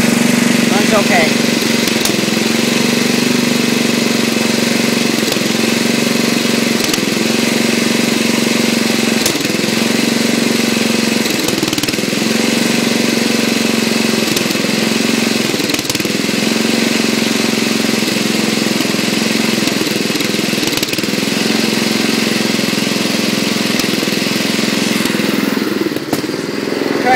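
A racing lawn tractor's engine runs steadily throughout, a continuous near mid-pitched drone with a constant hum and small rhythmic pulses, loud and unbroken.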